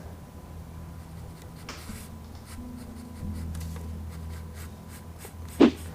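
A pen drawing the black outline around a cat's eye: quiet, close scratching strokes on paper in short runs, ending with one sharper tap or bump.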